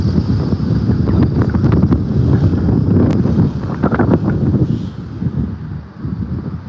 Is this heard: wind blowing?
yes